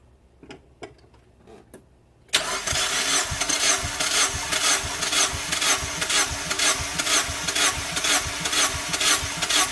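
A 2001 Mazda Miata engine cranks during a wet compression test, a few faint clicks giving way to a loud, steady rhythmic starter churn that continues for about seven seconds without the engine catching.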